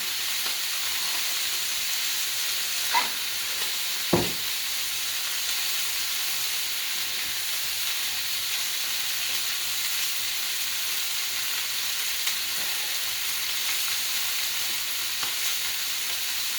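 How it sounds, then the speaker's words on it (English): Pork ribs searing in a pan, giving a soft, steady sizzle and hiss throughout, with a couple of brief clicks or taps early on and no talking. "after I sear the ribs"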